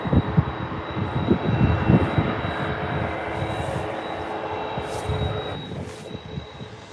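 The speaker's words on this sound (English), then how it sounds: "Got your Ryanair 737 heading over to Faro, about to taxi in front of us very shortly" Continuous low engine rumble with a thin high whine from a Ryanair Boeing 737 taxiing at Birmingham airport, close and fairly loud, with occasional gusty bursts on top.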